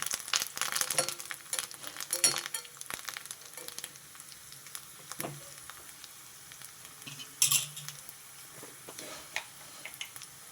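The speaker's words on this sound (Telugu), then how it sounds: "కరివేపాకు చిట్టపట అనకుండా ఉండదండి అసలు" Curry leaves crackle and spit in hot oil in a home kitchen pan while cooking dal with ridge gourd, with a steady sizzle broken by sharp pops and a louder burst near the end, no talking.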